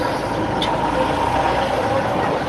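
Heavy traffic jam on a Chinese street with trucks and buses, a dense, continuous rumble of idling engines close by and a brief hiss like an air brake.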